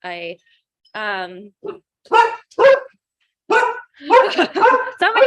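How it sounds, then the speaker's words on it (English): A dog barks in several sharp, close bursts with a couple of whining yelps, mixed in among indoor speech. "Get my dog to be quiet."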